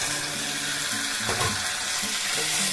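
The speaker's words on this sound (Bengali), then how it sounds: "এখন আলুগুলোকে এর মধ্যে দিয়ে দেবো আমি।" Potatoes drop into a pan of hot spiced masala, setting off a loud, steady sizzle and crackle with a brief burst of stirring and scraping midway.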